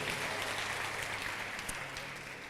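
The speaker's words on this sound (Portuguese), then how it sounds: "Você pode aplaudir ao Senhor por isso?" Congregation applauding during a church service, a dense steady wash of clapping that fills the space evenly and fades slightly toward the end, with no clear talk over it.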